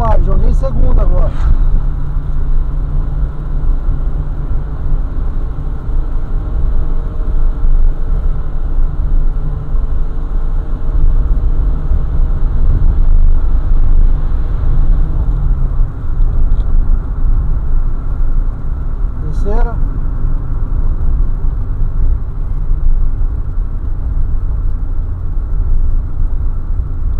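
A passenger car engine-brakes downhill after a downshift into second gear, giving a steady mid-low engine drone and rumble with road noise that holds throughout.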